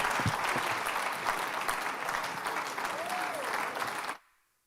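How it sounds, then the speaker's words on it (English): Audience applause after a public lecture held for a birthday celebration, a dense sustained clapping from a large crowd that holds steady for about four seconds and then stops abruptly into silence. "Please, one more time, a round of applause for the Professor Batitomi."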